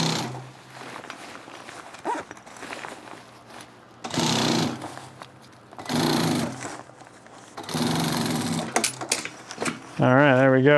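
A sewing machine stitches an SDL backpack in three bursts of fast buzzing, separated by quieter handling and fabric rustles, with a voice at the very end.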